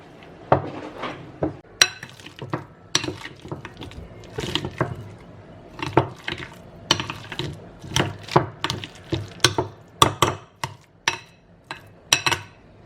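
Avocado being mashed in a bowl for guacamole, a steady run of close, sharp clinks and soft squelching taps as the utensil strikes the bowl in uneven rhythm.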